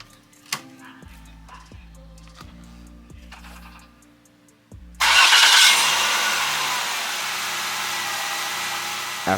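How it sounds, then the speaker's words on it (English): A Jaguar X-Type with a P0433 purge valve fault code gives a few quiet ticks and clicks, then its engine cranks and fires with a loud burst and settles into a steady, running idle. "let's start the Jag and take it for a drive"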